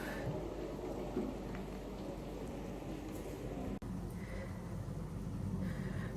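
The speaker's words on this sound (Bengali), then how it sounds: "সকাল থেকে বৃষ্টি বৃষ্টি শুরু হয়ে গেছে" Steady rain falls throughout with a constant dense hiss, and a low rumble of thunder rolls underneath; no voices.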